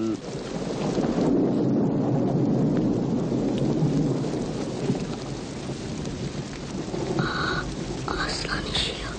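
A heavy thunderstorm roars throughout, dense pouring rain and rumbling thunder filling the sound at high volume, with voices speaking faintly beneath the downpour.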